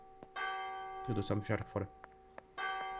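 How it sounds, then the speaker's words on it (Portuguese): Midnight church bell tolling in the video game Martha Is Dead, sustained ringing tones that fade and then strike again, with a person talking over the middle stretch. "o sino da meia-noite. Badalou."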